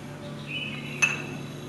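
A single faint metallic clink of a spoon against a dish while mixing, with a soft ringing tone over a quiet room.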